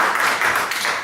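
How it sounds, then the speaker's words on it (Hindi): Audience clapping at a church convention, a dense, steady patter of many hands continuing throughout the short stretch, fairly loud and without speech. "एक छोटी सी ताली हो जाती पाक साहब के लिए।"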